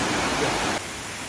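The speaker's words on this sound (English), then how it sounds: "This is Annandale waterfall." Annandale waterfall on a tropical spice island, a steady broadband rush of falling water close by, loud and continuous, dropping slightly in level near the end.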